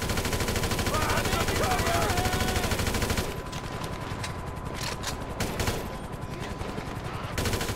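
Rapid automatic gunfire in GTA 5, loud and continuous for about three seconds, then sparser bursts of shots with game ambience beneath.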